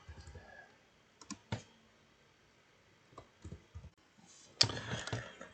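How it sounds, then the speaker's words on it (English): Someone typing on a computer keyboard at a desk. Short bursts of clicky keystrokes come in clusters separated by quiet pauses, ending in a louder flurry of rapid taps, close by and with no talk. "So I'm going to type it in now."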